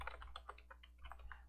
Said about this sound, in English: but I'm already typing